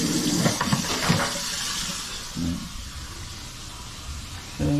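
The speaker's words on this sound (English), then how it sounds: "running water this way" Water runs with a steady hiss and splash that fades lower partway through, with a few brief louder gurgling bursts.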